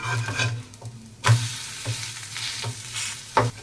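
Semolina and carrot snack sizzles and fries in a pan while being flipped, with a steady crackling sizzle broken by several sharp scraping and turning sounds from the utensil at irregular moments.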